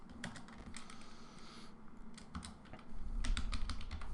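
Typing on a computer keyboard, with irregular bursts of close key clicks and a brief pause midway, quiet and without talk.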